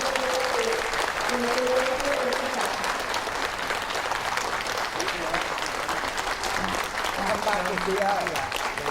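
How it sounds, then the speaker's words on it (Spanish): Welcoming applause from an audience at a talk, steady dense clapping for several seconds with a voice speaking over it and some crowd murmur. "demos un gran aplauso, por favor, de bienvenida"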